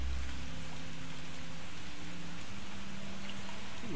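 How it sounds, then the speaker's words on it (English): Steady rain falls in the genetics survival video game NICHE, a constant hissing wash of drops with a faint low tonal hum underneath, even and unbroken throughout. "Oh, we got some rain!"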